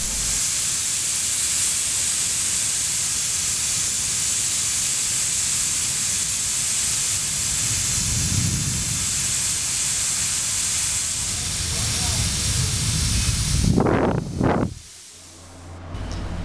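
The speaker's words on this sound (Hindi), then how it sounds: "कुकर में से सीटी उठाने के बाद कुकर में से सारी गैस जो है वो खारिज कर देंगे।" A pressure cooker with its whistle lifted off vents steam while beef korma cooks, a loud, continuous hiss that runs steadily before a few short clanks and a sudden drop near the end.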